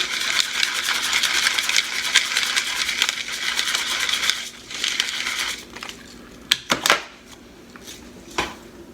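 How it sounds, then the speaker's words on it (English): Fresh black pepper ground from a pepper grinder, a close crunchy grinding rasp for several seconds, then a few sharp clicks and knocks as it is set down. "We like fresh ground pepper at our house."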